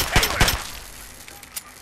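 Two sharp gunshots ring out close together in Fallout 3, followed by a quieter tail and a faint later crack, with some voice activity mixed in.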